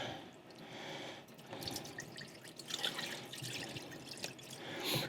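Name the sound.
rinsing salt pork under running water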